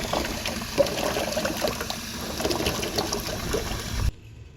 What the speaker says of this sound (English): the first thing we need to do is get them in the sink and get them washed